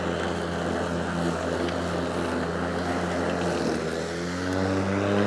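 A steady motor hum with a rising pitch as a Ryobi 40V cordless self-propelled lawn mower revs up, continuous and close, with no talking.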